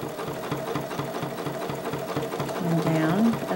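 Sewing machine stitching through quilt layers, a fast steady mechanical needle rhythm close by, with a voice speaking briefly over it near the end.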